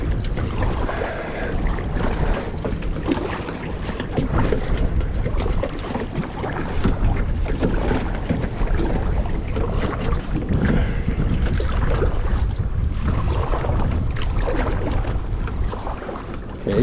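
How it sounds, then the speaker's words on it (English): A kayak being paddled on water near the shore at Titusville, with continuous water wash and strong wind buffeting on the microphone throughout, close and steady with no distinct strokes standing out. "I better paddle away before I hit it."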